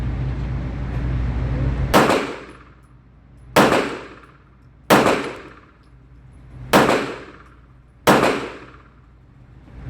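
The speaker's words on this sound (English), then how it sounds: "I'm gonna shoot left-handed this time." Five loud, close pistol shots from a Staccato P fired left-handed during break-in practice. Each crack is sharp and echoes off at a slow, uneven pace over a low background rumble.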